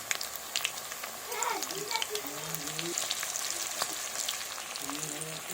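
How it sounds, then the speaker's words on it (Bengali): Potatoes frying in hot mustard oil with a little turmeric, a steady close crackling sizzle with occasional stirring while a person talks over it. "এবার তেলটা গরম হয়ে গেছে, এবার আলুগুলো ভেজে নেব।"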